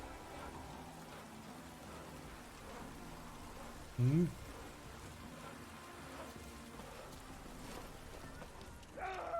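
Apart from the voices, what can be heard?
rain falling in the video game The Witcher 3: Wild Hunt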